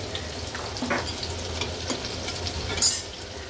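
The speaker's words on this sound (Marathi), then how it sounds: "आता आलं लसूण क्रश, पातीचा कांदा आणि हिरवी मिरची व्यवस्थित आपल्याला परतून घ्यायची आहे।" Spring onion, crushed ginger-garlic and green chillies sauté in hot oil for restaurant-style mushroom fried rice, giving a steady close sizzle with soft stirring scrapes and a brief brighter clatter near the end.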